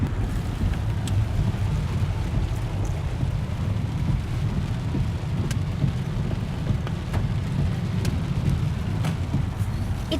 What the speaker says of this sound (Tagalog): And yeah, look at this rain.